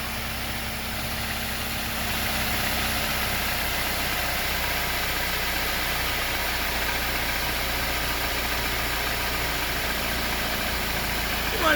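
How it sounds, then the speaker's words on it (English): A new truck's engine idles steadily after warming up, a smooth, constant mid-low hum with slight vibration, close and loud, running alone without talk. "RPM just went down. Meaning it done warmed up."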